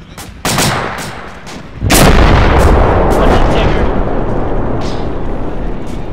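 M60 machine gun fire in the ARMA 2 video game, heard as sharp shots that give way to a dense, booming barrage of continuous heavy gunfire, very loud and sustained.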